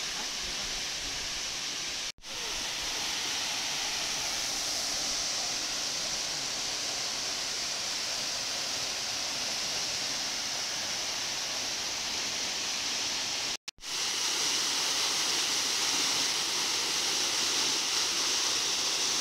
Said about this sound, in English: we are taking the closer look of the waterfall